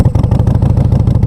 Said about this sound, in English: Going to neutral, start the bike up.